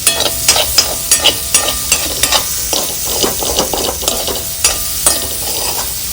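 Paneer tikka mixture is stirred in a pan, with repeated scraping strokes in a steady rhythm over a soft sizzle, close and fairly loud, with no one talking.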